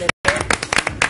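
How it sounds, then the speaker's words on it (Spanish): An audience on a TV show claps for a man named Alexander, giving short, uneven bursts of applause after a brief cut of silence, fairly close and loud. "Le aplaudimos a Alexander"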